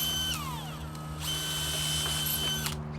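A power drill bores holes into a wall to hang a floating shelf, with a steady, close, continuous whine and a few shifts in pitch over about three seconds.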